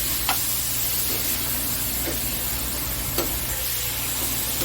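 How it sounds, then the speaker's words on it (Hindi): Chicken mince stuffing fries with onions in a hot pan, giving a steady close sizzle broken by a few soft scrapes of stirring. "मसाला हमने जो खीमे का बनाया था, स्टफिंग बनाई थी, उसको अच्छे से मिक्स कर देंगे प्याज के साथ में और अच्छे से हम उसे भून लेंगे।"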